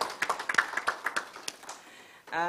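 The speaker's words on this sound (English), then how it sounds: "let's give the minister a clap in absentia" Audience applause at a project closing ceremony and workshop, honouring a minister who is absent: a brief scatter of separate claps over about two seconds, then a voice begins speaking.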